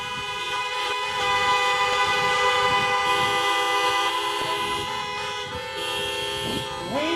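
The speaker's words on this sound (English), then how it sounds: "And one last honking of horns." At an outdoor drive-in menorah lighting, many car horns honk together in long overlapping blasts, loud and sustained over the crowd's murmur, with voices faintly underneath.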